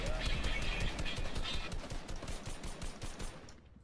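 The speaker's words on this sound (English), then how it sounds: "Why is this guy shooting at me down here?" Rapid bursts of gunfire in a battle royale video game, dense repeated shots filling the clip at steady loudness before trailing off near the end, with faint voices underneath.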